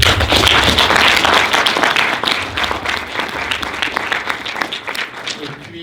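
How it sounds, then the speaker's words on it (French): An audience at a Paris gathering on the Congo applauds itself, dense clapping loud at first and then thinning out into scattered claps with some voices underneath. "de vous applaudir vous-même"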